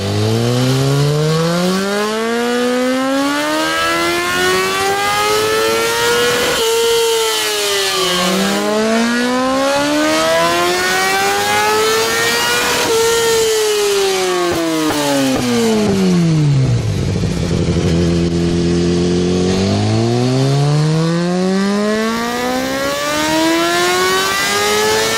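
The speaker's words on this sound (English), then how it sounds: "here's the sound of the HP4 Race, which is essentially the predecessor to the M, with the same inline-4 layout" A BMW HP4 Race superbike with an inline-4 engine revs hard through repeated rising and falling sweeps, shrieking up to high pitch and dropping back, loud and close with no talk.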